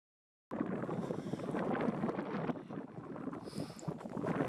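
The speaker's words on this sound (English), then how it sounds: "It's usually pretty windy up here on top." Strong wind buffets the microphone on an exposed rocky hilltop in Alaska, a continuous loud roar and rumble that starts abruptly after a brief silence and carries on steadily throughout.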